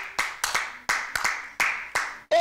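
A church congregation claps to praise the Lord in sharp, loud, uneven bursts, several hands close by over about two seconds, with no speech.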